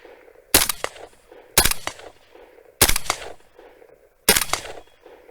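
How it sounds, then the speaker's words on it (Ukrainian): Four sharp gunshots ring out one at a time, spaced about a second apart, each with a short echoing tail. "Зробимо пару пострілів."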